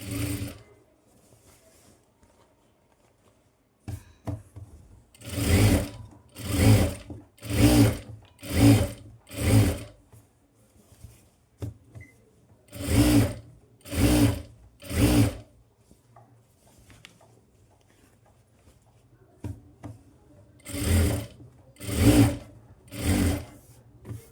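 Sewing machine stitching a fall onto a saree at home, running in short repeated bursts of rapid whirring with brief pauses in between, loud and close, with no talking.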